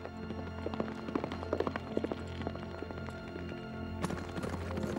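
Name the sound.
horse Tempête galloping, hooves clip-clopping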